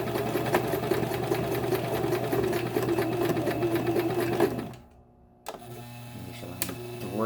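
A sewing machine stitches a wig with a steady, continuous mechanical whir, loud and close, then breaks off briefly into near silence before starting up again.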